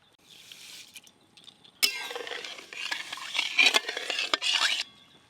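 Sugar is poured into water in a kadai and stirred for syrup, giving a gritty scraping and clinking of a spoon against metal in quick bursts, with a short pause midway.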